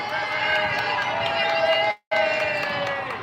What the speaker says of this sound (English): sorry, the team's cheering here